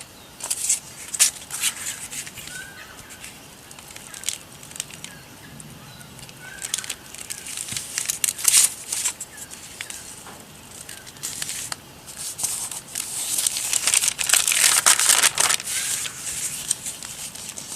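Paper signatures and hinges being folded and handled during bookbinding, a series of soft crisp crackles, rustles and creases close by, irregular and quiet, with no talking.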